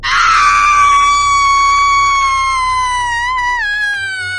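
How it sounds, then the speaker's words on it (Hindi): A witch's long, shrill scream from a Hindi horror story about a train, loud and piercing, holding a high wavering pitch for several seconds before it bends downward and fades. "चुड़ैल चीखी"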